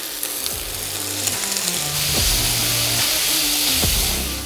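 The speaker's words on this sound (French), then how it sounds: "On va pouvoir passer à la cuisson. On va commencer par la Copa. On va ajouter les poivrons." Coppa and sliced bell peppers fry in a pan with a steady, loud hiss, with scraping utensil strokes and knocks breaking through the sizzle now and then.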